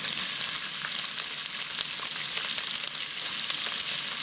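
Chopped onion and scallion frying in hot oil in a pot, a dense steady sizzle with crackling pops, close up and without speech.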